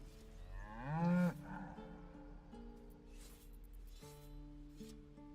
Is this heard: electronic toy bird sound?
no